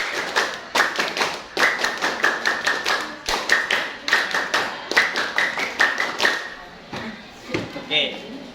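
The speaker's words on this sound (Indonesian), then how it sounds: "2 kali tepuk pramuka" A group does Indonesian scout (Pramuka) clapping in a quick rhythmic pattern, bursts of rapid claps repeating over and over, with voices calling along.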